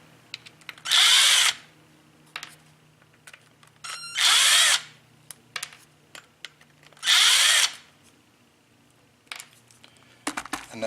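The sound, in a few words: power drill driving out a bolt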